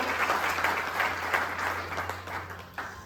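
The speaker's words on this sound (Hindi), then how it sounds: "जोरदार तालियां एक बार उनकी हो जाए।" Audience claps steadily at a community conference, a fairly distant, moderately quiet round of applause with a low steady hum underneath and no speech.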